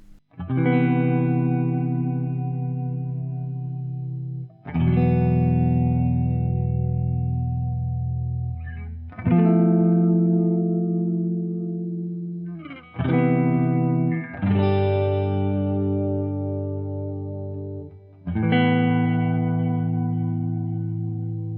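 Electric guitar, a Gibson Goldtop Les Paul with Seymour Duncan Pearly Gates pickups and a Bigsby, with a lightly overdriven tone rings out in sustained chords, each strum decaying slowly before the next, several in a row with no talking.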